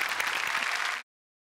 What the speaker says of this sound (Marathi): जोरदार टाळ्या त्या फॅमिलीसाठी